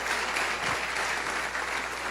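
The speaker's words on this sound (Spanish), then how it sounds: "Dale un aplauso más fuerte al Señor." A church congregation applauds during a Spanish-language sermon, a brief dense wash of clapping that holds steady and fairly loud throughout.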